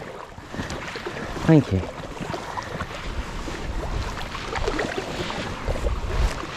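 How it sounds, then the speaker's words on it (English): Gusty wind buffets the microphone at a wild camp, rumbling low and rising and falling in strength, with a brief sharp knock partway through and a short spoken remark. "that wind's bad"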